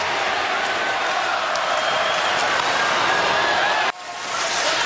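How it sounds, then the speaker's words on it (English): Hockey crowd at a Detroit Red Wings game chanting, a dense, loud arena roar that holds steady and then drops abruptly near the end before swelling again. "the crowd is chanting"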